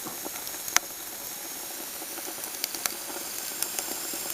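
Water hisses and sizzles on a rocket stove fire, and a plastic label bubbles away in it. The hiss stays steady and fairly faint, with scattered small pops and crackles.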